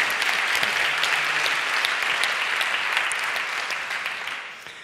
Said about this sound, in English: So I think that's already worth a big applause.